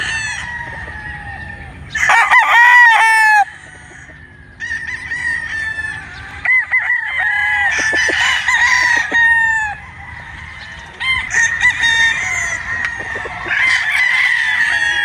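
A White Sweater Boston three-way-cross gamefowl rooster crows loudly and repeatedly from close by. Clucking and other fowl calls fill the gaps, and more birds can be heard in the background.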